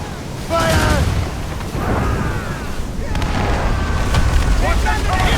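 Ship cannons firing in Assassin's Creed Rogue, repeated heavy booms and a sustained battle rumble close by, with shouting voices over the noise.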